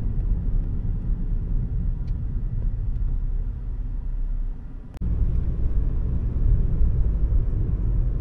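Car moving along a road at night, heard from inside the cabin: a steady low road and engine rumble with a brief dip and a sharp click near the middle, then the drone continues unchanged.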